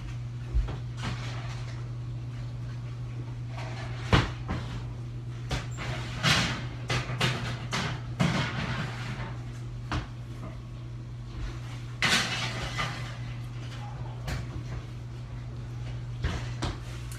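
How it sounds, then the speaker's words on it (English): An oven door opens and a tray of vegetables slides onto the top rack, giving a series of scattered clanks, bumps and metal scrapes over a steady low kitchen hum, with no one talking. "I'm just gonna put them in the oven, like like on the top rack, so it's really close to the heating element."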